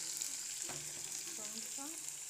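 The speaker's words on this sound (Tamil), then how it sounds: "தக்காளி போட்டு நல்லா வதக்கணும்." Tomatoes sautéing in a pan for an egg and capsicum gravy, a steady soft sizzle with a few stirring scrapes partway through, close and continuous with no talking.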